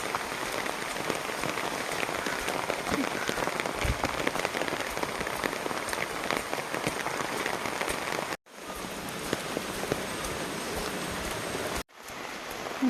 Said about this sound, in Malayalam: മഴയാണ് ഗൈസ്, മഴ.